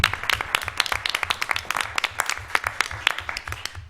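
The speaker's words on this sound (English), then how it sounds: "Round of applause." Sparse applause at an Emeryville, California city council meeting, with a handful of people clapping in distinct, fairly close sharp claps that continue for several seconds and then stop.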